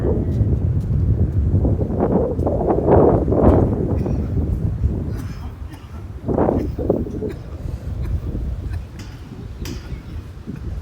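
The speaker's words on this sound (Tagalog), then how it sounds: "Lakas ng hangin, ah." Gusty wind atop Macau Tower at night buffets the microphone in a steady low roar, with a voice speaking briefly partway through.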